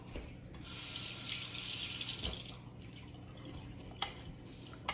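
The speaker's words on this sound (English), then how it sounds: "Let me wash my spoon off." Water from a kitchen tap runs steadily for a few seconds while a spoon is rinsed during soup cooking, a broad hiss that eases off, followed by a couple of faint clinks near the end.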